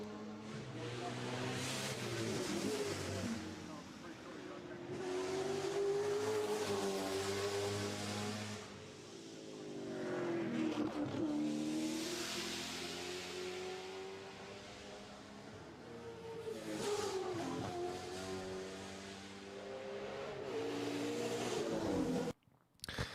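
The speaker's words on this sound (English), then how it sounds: "that car is a 5-liter naturally aspirated V8 with around 600 horsepower" A race car with a 5-liter naturally aspirated V8 of around 600 horsepower revs and accelerates in repeated rising sweeps, loud and close, easing off between pulls, with a voice talking over parts of it.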